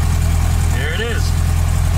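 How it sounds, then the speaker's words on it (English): Volkswagen Type 3 engine idling steadily after a fresh install, carburetors not yet balanced, a low even rumble with a pulsing beat running throughout, close by, with a voice speaking briefly over it. "The engine's so much quieter than it was before."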